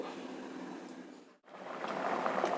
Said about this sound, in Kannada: ಸಾರೀಗ ಚೆನ್ನಾಗಿ ಕುದೀತಾ ಇದೆ